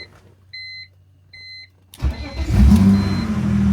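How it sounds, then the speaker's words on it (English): A BMW E46 with a faulty EWS immobilizer cranks briefly and catches, its engine settling into a loud, steady idle after a few quiet electronic chimes. "let's see if it does crank"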